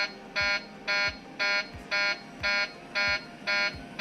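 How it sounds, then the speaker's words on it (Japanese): The takeoff warning horn of the Helios 522 airliner sounds in the cockpit during the climb, a loud electronic buzz that repeats in even bursts about twice per second over a low engine rumble. "上昇中に突然コックピット内に警報が鳴りました。"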